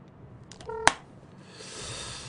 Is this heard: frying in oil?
no